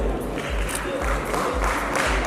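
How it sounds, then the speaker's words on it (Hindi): Applause at an awards event, a crowd clapping in a rhythmic, pulsing beat, with music or a low beat underneath. "जोरदार तालियां"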